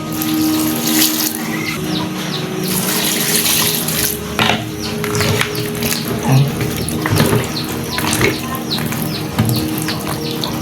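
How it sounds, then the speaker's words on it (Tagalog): Bottle gourd (upo) washed under a running kitchen tap, a steady loud splash of water with rubbing and handling noises as the vegetable is scrubbed, close and continuous. "Hugasan po natin ng maigi."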